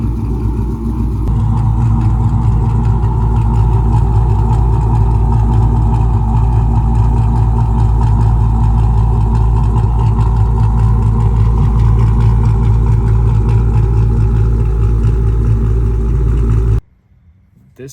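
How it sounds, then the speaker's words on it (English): A Dodge Scat Pack's 6.4 Hemi V8 with a stage 1 cam idles up close, loud and deep with a steady choppy, lopey rumble for most of the stretch before cutting out abruptly near the end. "So it's got a pretty unique idle. It's choppy, but it's got a real deep tone to it"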